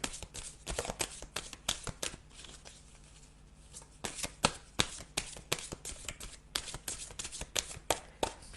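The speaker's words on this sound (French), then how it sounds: "je vais tirer une dernière carte" Oracle cards riffle and slap in quick, close bursts of shuffling, then go briefly quiet during the draw before soft flicks and taps resume. The sound is faint overall and no words are spoken.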